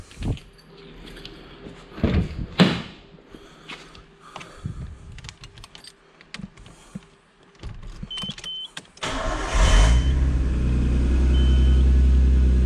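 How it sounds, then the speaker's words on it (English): An R32 Nissan Skyline starts up after a few clicks and handling noises, its engine catching near the end and settling into a loud, steady close-up rumble. "I'm gonna go ahead and start the car."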